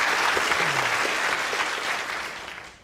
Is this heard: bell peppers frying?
no